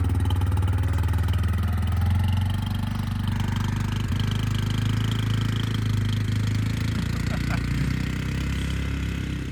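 A Suzuki Kodiak 400 four-wheeler, freshly revived with an oil change and new air filter, runs steadily and loud nearby, its engine chugging with a rough, rattling throb throughout.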